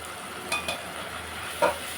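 Tomatoes with chili powder, turmeric and coriander powder sauté on a low flame for a village-style okra tamarind curry, a soft steady sizzle broken by a few light spatula clinks against the pan.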